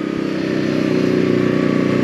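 Steady engine drone from a Voge 525 ACX motorcycle (2023) being ridden, a continuous mid-low hum with faint rhythmic pulsing and no voices over it.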